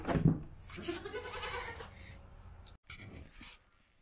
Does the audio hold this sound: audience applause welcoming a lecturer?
no